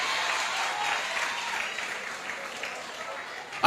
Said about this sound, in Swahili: Pigia Abdulswamad makofi